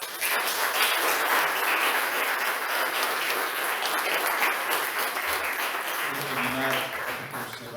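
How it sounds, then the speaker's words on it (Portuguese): A church congregation applauds in a long, even burst of clapping that holds steady and loud for several seconds before easing slightly near the end. "Pode aplaudir ao Senhor?"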